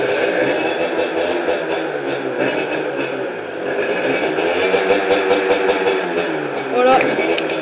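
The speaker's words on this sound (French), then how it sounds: "Là il y a mon frère qui a démarré sa moto." A Honda Dax-style small motorcycle engine idles and revs steadily at moderate distance, a continuous mid-pitched putter lasting throughout with a small rise near the end, mixed with some handling clatter.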